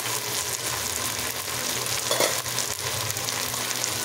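Marinated pork medallions frying in a pan, with a steady close broadband sizzle and crackle throughout and a brief louder spit of oil partway through.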